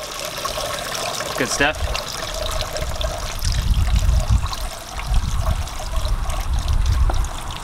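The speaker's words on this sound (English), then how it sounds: "Let the water run off." Water trickles and runs off a reptile reservoir tank, a steady splashing dribble with a louder burst of flow in the second half, while a person speaks briefly over it.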